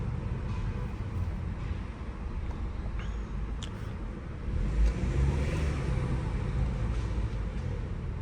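A BMW 320i M Sport drives in mountain traffic, its engine and intake a low, steady rumble from inside the cabin, with a brief swell in level partway through and no talk.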